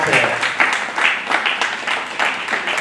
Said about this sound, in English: Keep clapping until Olumide comes here.